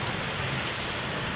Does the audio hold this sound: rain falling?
yes